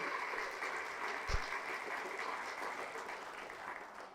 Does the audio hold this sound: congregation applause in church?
yes